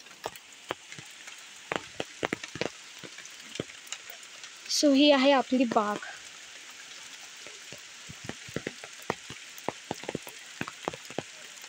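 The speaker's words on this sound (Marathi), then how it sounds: "सो पाऊस पडतोय" Rain falls in a cardamom garden, a steady patter with scattered sharp drips close by. Someone speaks briefly midway.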